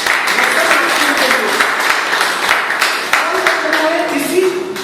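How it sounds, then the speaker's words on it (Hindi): Audience at an RCM business seminar in Payagpur breaking into loud, sustained applause, dense clapping that carries on steadily throughout. "आज अभियान आपको एक बार ताली बजा दीजिए"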